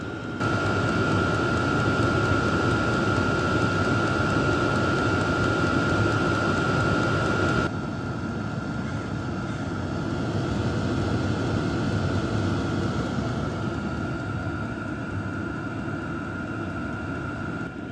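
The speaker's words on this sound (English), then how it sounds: "let's take a listen to how loud the fuel pump tick actually is with the case open and case closed" A Hcalory Toolbox 2 diesel heater runs with a steady, airy roar and a faint fuel pump tick that cuts out partway through, leaving a slightly softer continuous rush.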